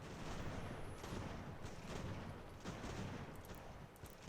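Artillery fire in Ultimate General: American Revolution, a dense rolling battlefield din of distant cannon booms and scattered musketry, steady and continuous across the scene without talk.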